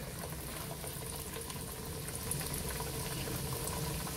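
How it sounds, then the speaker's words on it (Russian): Steady, close sizzling and crackling of meat-filled chebureki pastries deep-frying in hot oil, a continuous hiss with no voices. "вот наше масло накалилось. Теперь вложим чебуреки."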